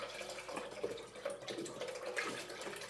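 Water pours into a pot of hearty vegetable and meatball soup, a soft, steady trickling and splashing that stays faint throughout.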